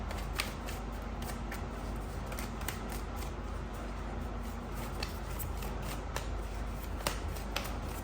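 Tarot cards are shuffled by hand, a steady papery riffle and slide with repeated small snaps as cards are drawn, close and fairly quiet.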